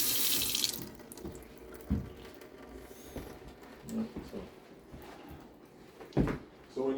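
Water running and gurgling out of a freshly unclogged kitchen sink drain, with clunks and knocks of plumbing work around it and people talking in the background.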